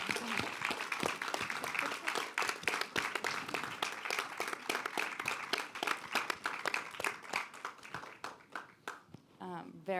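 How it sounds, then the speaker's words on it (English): An audience at a film screening before a director's panel discussion gives a round of applause, dense steady clapping that thins out and fades toward the end, with some voices faintly present. "let's just give a round of applause for the film first."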